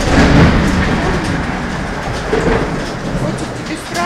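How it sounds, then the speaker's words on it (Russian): Dense, continuous pattering of hail, loud and close, a steady hiss with no break. "Да, мне кажется, это град."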